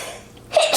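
A single short sneeze bursts out near the end, loud and close after a quiet moment.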